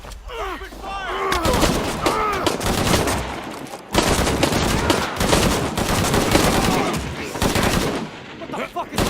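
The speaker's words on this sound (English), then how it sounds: "Open fire!" Sustained automatic gunfire in Shadow of the Tomb Raider: dense, loud, overlapping bursts of rapid shots roll on almost without pause, with a brief break partway through and shouted voices mixed in at the start.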